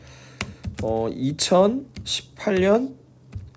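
Soft clicking of a computer keyboard, a short run of keystrokes under a woman's speech in Korean, close and moderately quiet.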